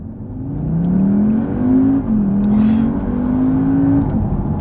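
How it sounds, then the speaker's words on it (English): A 2019 Audi TTS engine revs and pulls hard from about 18 mph, its pitch climbing steadily through gear changes, loud and close with a constant drone of road and wind noise. "Now let's demonstrate just how quick this engine is."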